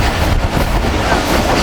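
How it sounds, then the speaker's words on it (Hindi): The Millat Express passenger train rolls through an abandoned station on the Lalamusa to Karachi route, a loud, close rumble with rattling wheels and carriage noise filling the moment. "तीसजंड रेलवे स्टेशन को स्किप कर रही है ट्रेन"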